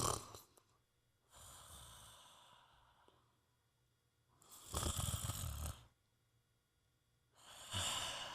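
A person imitates snoring with three drawn-out, rasping snore sounds separated by quiet pauses, close and alone with no other talk.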